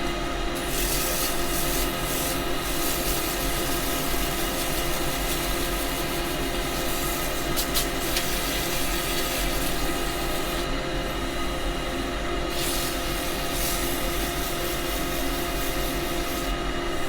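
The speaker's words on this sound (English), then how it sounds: "I'm going to do that little bit of sanding." Steady abrasive rubbing as sandpaper works a wood turning spinning on the lathe, a continuous close hiss with a motor hum underneath and brief pauses in the scratching, no voices.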